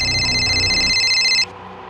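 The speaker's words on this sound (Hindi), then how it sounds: "खबरी नदीम का फोन है सर" An electronic phone ringtone trills steadily for about a second and a half, then cuts off abruptly, leaving quiet room tone.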